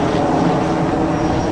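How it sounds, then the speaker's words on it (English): A TUI Boeing Dreamliner jet at Newcastle Airport, heard as a steady, loud, broadband engine roar that holds without a break, with no voices over it. "we see the Tui Dreamliners take off and like head over towards"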